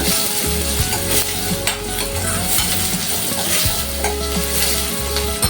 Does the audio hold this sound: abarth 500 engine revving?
no